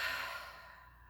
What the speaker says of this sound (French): Et expirez par la bouche.